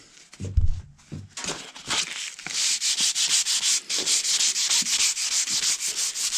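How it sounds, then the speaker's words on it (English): A wooden ramrod is rubbed with 150 grit sandpaper in fast, steady back-and-forth strokes, a close and loud rasping hiss after a few quiet handling knocks at the start. "I'll just take some sandpaper, like around 150."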